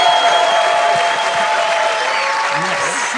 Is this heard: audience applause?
yes